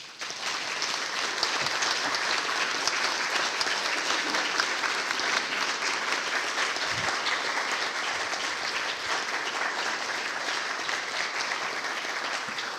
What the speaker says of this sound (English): So please join me in one more round of applause for Dr. Anna Warwick-Sears.